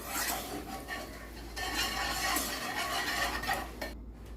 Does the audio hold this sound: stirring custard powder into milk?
yes